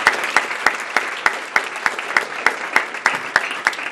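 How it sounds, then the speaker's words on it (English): Rousing audience applause at an Action Ohio women's event, a dense steady wash of clapping from a sizable crowd, with regular louder claps punctuating it throughout. "Join me in giving her a rousing applause."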